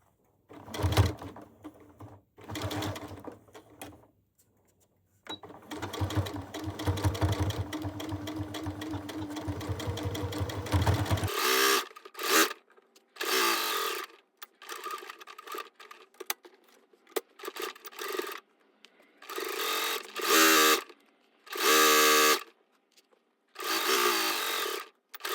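A sewing machine stitches a zippered cushion nearby: short runs of rapid needle chatter at first, then a long steady stretch, followed by several brief bursts separated by quiet pauses. No one speaks.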